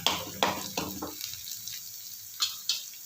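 Aloo paratha potato filling with chilli flakes frying in a pan on a low flame, a soft steady sizzle broken by several sharp scraping stirs, close and alone.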